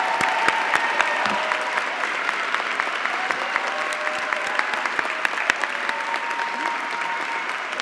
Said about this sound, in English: Please join me for a round of applause for the 2022 recipients of the Order of Aurora Palm